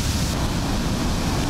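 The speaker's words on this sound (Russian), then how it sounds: "Водопад." Roaring water at the Konakovo dam hydroelectric station, a steady, loud broadband rush of falling water that fills the whole moment without a break and with no voices.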